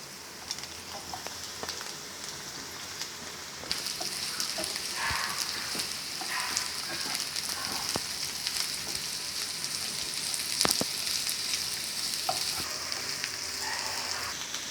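Bitter gourd pieces sauté with onions in a hot pan: a continuous, moderately loud frying sizzle with scattered faint crackles and occasional sharp clinks, and no voices.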